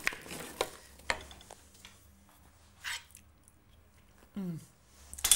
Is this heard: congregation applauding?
no